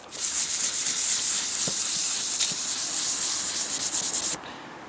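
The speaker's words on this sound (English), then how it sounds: "I've already started sanding. Started off using some 600 grit" Steady, close abrasive rubbing of hand sanding a Jeep front bumper with 600 grit sandpaper, a continuous gritty scratch with quick rhythmic strokes, stopping abruptly near the end.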